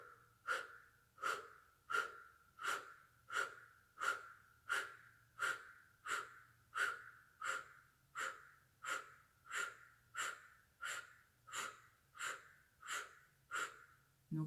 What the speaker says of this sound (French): je ferme la bouche, je fais un O et je souffle très fort